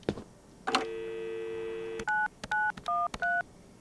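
A telephone being dialed in the video game Adios: a sustained dial tone, then a quick series of loud, evenly spaced keypad tones, close and clear with no talk.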